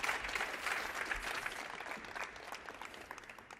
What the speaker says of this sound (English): A huge applause for Team Cityscaper.